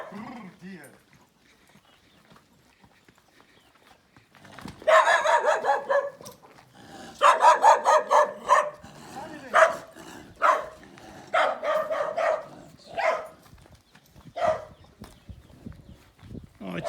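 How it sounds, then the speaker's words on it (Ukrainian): Dog barking in repeated bursts, loud and close, following a quiet stretch; voices talk around it. "Зараз буде пес на мене тягкати"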